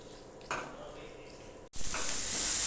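Salt, turmeric and sugar sizzle steadily in hot oil as they are stirred for dhokar dalna. The sizzle is close and continuous, breaks off for a moment, then returns louder and brighter.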